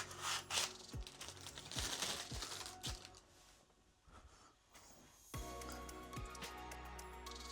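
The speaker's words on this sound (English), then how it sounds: "Now let's peel off the film." Protective plastic film being peeled off a PC case, crinkling and tearing softly at close range in several short pulls with brief pauses, quiet and with no talking.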